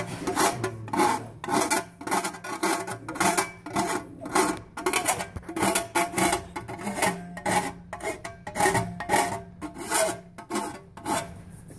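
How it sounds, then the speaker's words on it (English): Coarse file rasping across sheet metal in a high school shop, steady back-and-forth scraping strokes in a regular rhythm, gritty and close, with no talking. "basically it's a coarse file"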